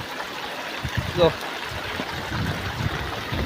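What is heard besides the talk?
flood water flowing after heavy rain in a village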